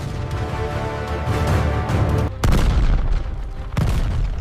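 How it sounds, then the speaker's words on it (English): A 20mm cannon on a small WWII tankette fires a burst, heard as a dense, loud roar of booms with sharp cracks cutting in near the middle and again toward the end. "unleashes another burst from the 20mm cannon"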